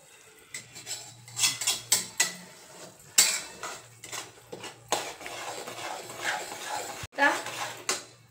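Semolina roasting in ghee in a pan while making sheera, heard as repeated clinks and scrapes of a metal spoon stirring against the pan in uneven bursts, close and clear, with no talking.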